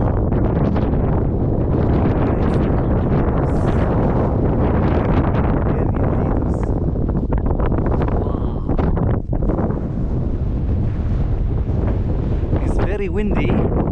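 Strong wind on a hilltop at the State Monument in Shumen, Bulgaria, roars and buffets the microphone in a loud, constant rush, with brief gusty dips and a raised voice speaking faintly underneath.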